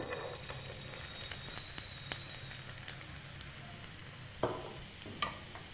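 Finely chopped onions fry in hot oil for an ivy gourd and onion chili dish, giving an even crackling sizzle throughout with a couple of sharper spatters and spoon scrapes near the end.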